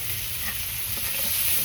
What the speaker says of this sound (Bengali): এই তো মাছগুলো ভেজে নই, ভালো করে ভেজে নামিয়ে নিব।